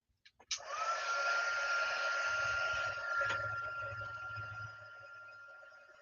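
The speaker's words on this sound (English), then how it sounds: "I'm going to go turn on my heat gun." Handheld heat gun for card embossing blowing steadily after a couple of clicks, a loud, even whoosh with a thin whine, close by and alone for several seconds before tapering slightly.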